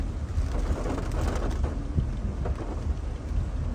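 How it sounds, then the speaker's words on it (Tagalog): Heavy rain pours down during a typhoon in the provinces, a dense, steady roar with low rumbling underneath and no voices. "Lakas pa din po ang ulan."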